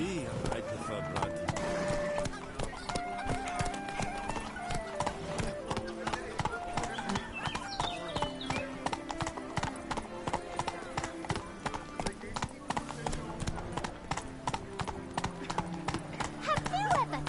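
Roach, Geralt's horse in The Witcher 3, gallops with a fast, steady clatter of hooves that runs loud and continuous throughout, with a neigh cutting in and a voice talking over the drumming.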